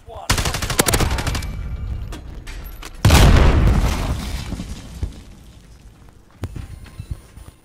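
Gunfire in Call of Duty: Modern Warfare (2019): a rapid burst of shots, then a heavy boom, scattered single shots and a final short volley, all close and sharp.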